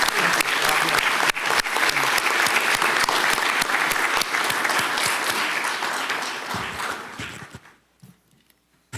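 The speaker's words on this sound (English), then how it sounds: "Can we give her another round of applause" Loud, sustained applause from the audience at a county commissioners meeting, dense clapping for about seven seconds before fading out near the end.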